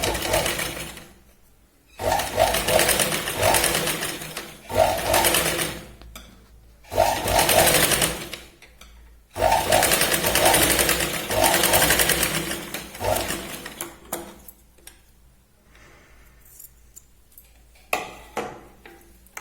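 A sewing machine stitches a Katori blouse in several loud, close bursts of rapid needle chatter, each lasting a couple of seconds, separated by short pauses, then lighter, intermittent runs toward the end.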